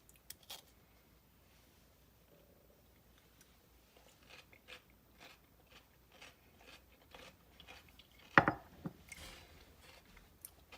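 Crunchy bites and chewing of a cucumber salad with dressing, soft irregular crunches spread through a quiet stretch, with one sharper, louder crunch near the end.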